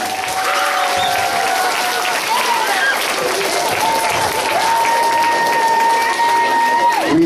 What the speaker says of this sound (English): give them a round of applause, a big one